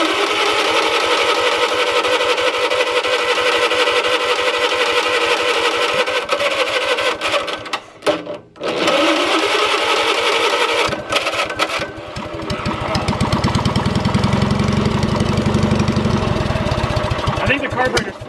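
A small tractor engine with a flooding carburetor runs loud and steady, stumbling briefly to a near stall partway through before roaring back with a heavier, rougher low rumble; people talk over it.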